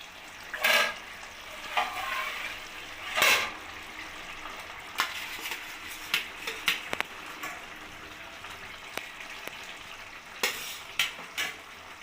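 Parshe fish going into a simmering curry with beans and eggplant in a pan, a soft sizzle and bubbling with scattered spoon scrapes and stirring clatter, close and fairly quiet, no talking.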